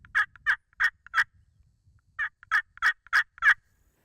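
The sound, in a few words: turkey hen yelping imitated with hunter's call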